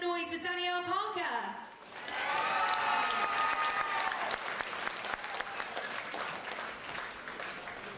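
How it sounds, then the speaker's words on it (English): A voice speaks briefly, then loud audience applause breaks out at a singing competition and continues steadily, a dense wash of clapping from a large crowd. "So please make loads of noise for Danielle Parker."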